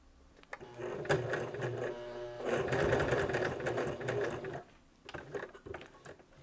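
A domestic sewing machine stitches synthetic Montana fabric, running in quick mechanical bursts of close, rattling needle strokes with short pauses between seams.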